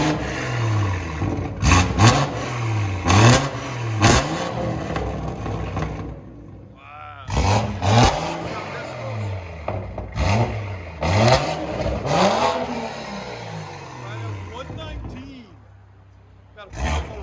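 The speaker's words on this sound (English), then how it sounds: "this is fully straight pipe, BMW 340i, inline 6, 600 horsepower, tuned and everything" Straight-piped, tuned 600 hp BMW 340i inline-six revving hard in repeated loud bursts, each sharp rise and fall of the engine note separated by brief pauses, with voices talking in between.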